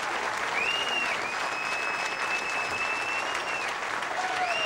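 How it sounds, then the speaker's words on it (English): A packed crowd gives a standing ovation for the champion of the 1995 PBA Ebonite Kentucky Classic bowling finals, with loud, steady applause throughout and a commentator talking over it. "Standing ovation."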